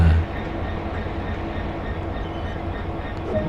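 A freight train in Train Sim World runs along the rails, a loud continuous low rumble with faint clickety-clack from the wagons. No voices are heard.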